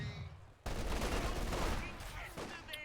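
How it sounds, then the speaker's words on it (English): .50 cal machine gun fire in a tactical strategy game, a sudden dense burst of rapid shots starting after a quiet moment and rattling on steadily with a few sharper cracks near the end. "Oh, 50 cal does get a nice shot in."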